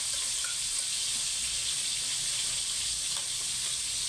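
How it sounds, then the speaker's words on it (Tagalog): Food sizzles steadily in a hot pan, a constant crackling hiss close by with no voices. "Ito, nagpiprito tayo ng ating tanghalian for today."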